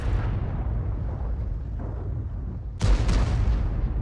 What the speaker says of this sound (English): DZT and Vickers are now exchanging fire